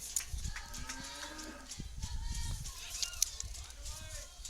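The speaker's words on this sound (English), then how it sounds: "The cow is okay, don't worry, fans." A cow moos near a high school softball field during a game, a few drawn-out calls in the distance under steady crowd and commentary background.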